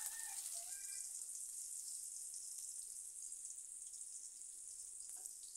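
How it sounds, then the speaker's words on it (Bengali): Chopped onions fry in oil in a wok, giving a steady hiss and sizzle throughout. A few faint clinks come near the start, and there is no talking. "পেঁয়াজ কুচি তেলের সাথে একটু ভালো করে ভেজে নিচ্ছি।"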